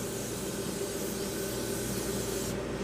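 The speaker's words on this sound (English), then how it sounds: "you spray it on with a non-stick Pam or butter cookie spray" Non-stick butter cooking spray hissing onto a baking sheet, a continuous soft aerosol spray that stays steady and fairly faint throughout.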